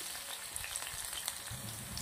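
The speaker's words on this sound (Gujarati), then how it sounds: "મરચાને થોડા તેલના અંદર સોતે કરી લેશું" Chopped hot green chilies and curry leaves sautéing in a little oil for raw papaya sambharo, a steady soft sizzle and crackle with faint spattering pops throughout, close and moderately quiet, no talking.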